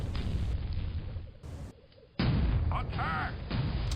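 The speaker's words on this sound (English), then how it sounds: "Getting long-range mortars coming into the Soda's base." Long-range mortar shells from Starsiege: Tribes land on a base on the Ice Ridge map, heavy booming blasts with crackling bursts over the rumble of play. A commentator talks over them.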